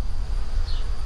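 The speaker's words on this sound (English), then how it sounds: "You can see there's already bees all over it." Honey bees buzz steadily around wax cappings dumped outdoors to be cleaned up, a close, continuous droning hum with no speech.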